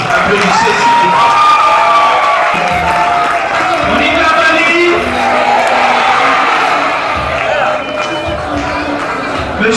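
Wedding guests cheer and shout together in a loud, sustained burst of crowd noise with some clapping mixed in, carrying on for the whole stretch before easing slightly at the end.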